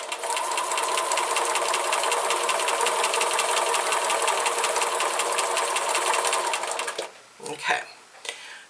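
A sewing machine hums and rattles in a steady, fast stitching run for about seven seconds, then stops and gives way to a few brief handling noises.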